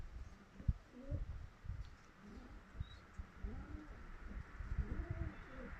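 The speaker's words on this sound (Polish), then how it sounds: "Typlery ładnie chodzą, mądre gołębie." Tippler pigeons coo softly and repeatedly, their low throaty calls rising and falling over a steady outdoor hum.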